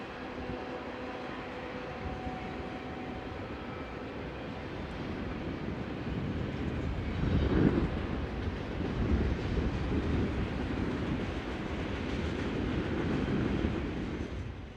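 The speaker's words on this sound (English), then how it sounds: "we have number 3968, on one of the frequent stack trains" Freight stack train led by locomotive 3968 passing a trackside spot in Kansas City, a steady rolling roar with wheel and wagon noise that swells as it passes and stays continuous, with no voices.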